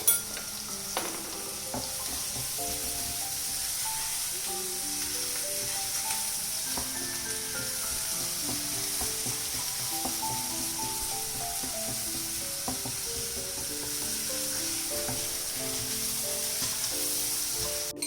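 Sliced onion (savala) with a little salt sautéing in a pan, a continuous close sizzle with scraping stirs of a spatula running steadily throughout, no voices.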